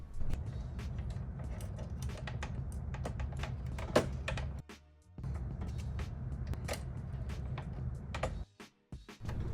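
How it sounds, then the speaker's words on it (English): Connectors on a PS5 HDMI port board are pressed down and snap into place, giving a run of sharp, close plastic clicks scattered over about ten seconds against a faint hum, with no talking. "You can simply line them up and push down until you hear an audible click."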